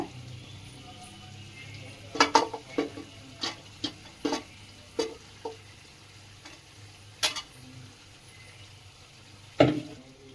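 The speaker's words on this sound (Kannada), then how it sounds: "ಇಟ್ಟುಕೊಂಡ ಮಿಶ್ರಣವನ್ನು ಮಿಕ್ಸ್ ಮಾಡ್ತೀನಿ." Chicken ghee roast masala mixture being stirred in a pan, a quiet sizzle under a string of sharp spatula scrapes and taps spaced through the clip, close up, with no speech.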